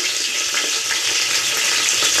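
Garlic and spices frying in butter and oil for a North Karnataka style biryani-type rice dish, a steady close crackling sizzle that runs continuously with no talk.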